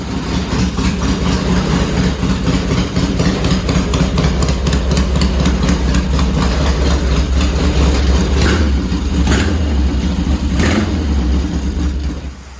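A Kawasaki H1 motorcycle engine runs steadily nearby, loud and continuous, with a rapid rough two-stroke beat and a low rumble throughout. Nobody speaks.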